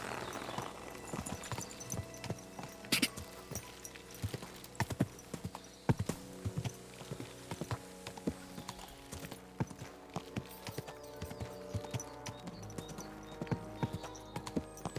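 Horse hooves clip-clop in Kingdom Come: Deliverance II, a steady run of sharp, close hoofbeats at an even walking rhythm over a quiet background, with a faint snort or whinny in places.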